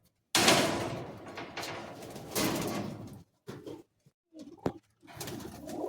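Flying pigeons in a loft coo and rustle at close range, a loud opening stretch followed by shorter, broken bursts of sound.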